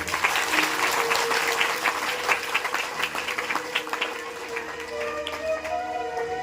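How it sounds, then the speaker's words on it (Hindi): An audience at a Ram Katha religious discourse applauds, sustained clapping from many hands that fills the clip and begins to thin toward the end as a tone rises underneath. "एक बार आप सब ताली बजा के स्वागत करें।"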